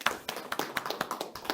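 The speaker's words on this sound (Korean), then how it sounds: "큰 박수 맞아주십시오." An audience at a housing and construction forum seminar claps to welcome a panelist. The claps are few and sparse, arriving as distinct irregular taps, fairly quiet and heard alone.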